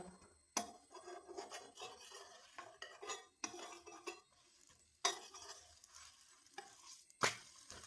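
A large dosa of maida batter and egg cooks in a pan, giving a quiet sizzle broken by sharp scrapes and taps of a metal utensil against the pan at an irregular pace.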